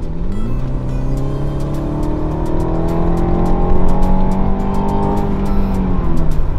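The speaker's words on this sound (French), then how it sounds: "Et on a toujours cette magnifique sonorité du moteur BMW." A BMW 430i F32 engine pulls strongly while driving, its tone rising steadily through the revs as the car accelerates, loud and close with a rough rasping edge, then briefly shifting and climbing again.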